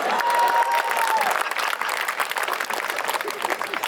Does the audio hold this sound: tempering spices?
no